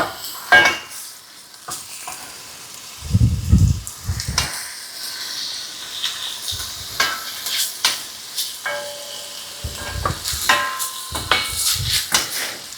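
Stew meat browns in a hot pan with a steady sizzle and frying crackle, broken by several bursts of stirring and clattering utensil scrapes against the pan.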